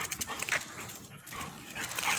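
Two dogs play together, giving soft whimpers, yips and panting over a continuous noisy rustle, fairly close and with no voices.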